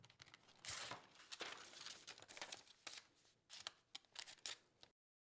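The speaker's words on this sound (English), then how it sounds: "we're gonna cut it nice and big" Scissors snip through card stock for a pop-up Mother's Day card, a steady run of close, crisp cutting strokes with rustling paper, stopping abruptly near the end.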